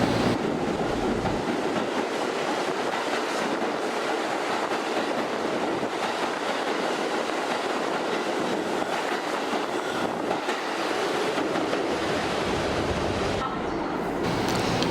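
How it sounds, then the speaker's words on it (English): New York City 1 subway train roaring through a deep Washington Heights station platform, a loud, steady rumbling wash of wheel and track noise that fills the whole stretch without letting up. "Now we're going to get on the one subway train to go to the nearby 181st Street station"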